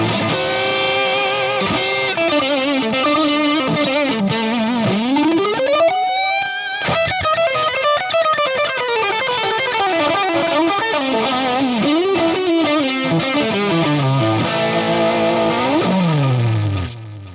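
Electric guitar playing a Plexi amp tone modeled on a Fractal Audio Axe-FX, with a loud, steady distorted riff of chords and bends that runs alone for the whole passage.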